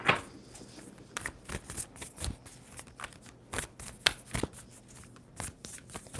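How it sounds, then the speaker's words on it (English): Tarot cards being shuffled up close, a run of crisp riffling snaps and soft flicks at an uneven rhythm, with no voices. "Two more shuffles for Leo."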